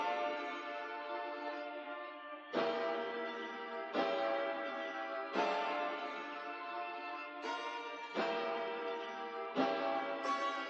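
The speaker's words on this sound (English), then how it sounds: "I have this vintage chime piano on there, which is a really nice preset" A vintage chime piano preset in the Arturia Pigments synth, played through reverb and EQ, rings out as a quiet, bell-like pattern of chords struck about every one and a half seconds, each decaying into a lush tail.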